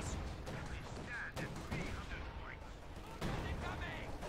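Katyusha rocket artillery barrage in the World War II strategy game Company of Heroes 2, a dense, continuous roar of launches and blasts mixed with crackling gunfire, with no quiet gaps.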